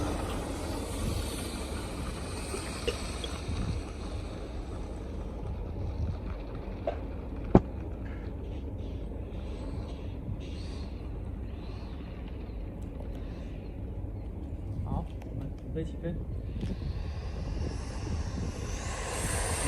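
A light airplane's engine rumbles steadily while taxiing on the ground, a continuous low drone with a few faint clicks over it.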